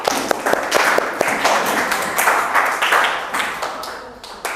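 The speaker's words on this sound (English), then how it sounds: "Give applause, please." Students in a classroom applaud together, a lively burst of many hands clapping that holds for several seconds before fading, with a few sharp individual claps standing out.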